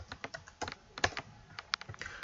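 Rapid typing on a computer keyboard as code is entered, a close, steady run of crisp individual key clicks with slight irregular rhythm and no talking.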